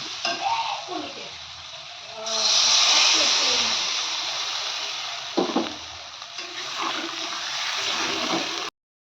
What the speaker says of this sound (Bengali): ভালো করে কষিয়ে নিয়েছি এবার জল দিয়ে দেবো